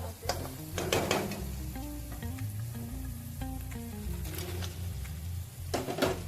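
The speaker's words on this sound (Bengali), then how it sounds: "মশলা থেকে তেলও ছেড়ে দিয়েছে ভাজা চিংড়ি মাছগুলো দিয়ে দেবো" Fried prawns tipped into sizzling fried masala for a prawn malai curry, giving loud bursts of crackling sizzle and stirring scrapes close by, with a soft melodic tone running underneath.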